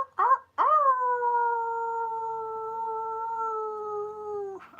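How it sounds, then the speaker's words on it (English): A single long wolf howl, loud and close, opening with two short rising yelps before settling into a sustained, steady tone that slowly fades and drops at the end. "End off with a wolf howl."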